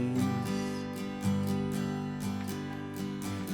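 Acoustic guitar strummed in a steady folk rhythm, brisk down-up strokes ringing out close and clear with no voice.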